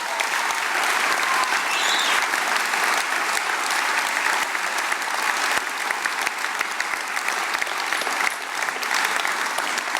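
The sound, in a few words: audience applauding campaign supporters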